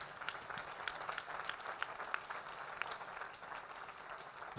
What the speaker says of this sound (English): look at the way you are clapping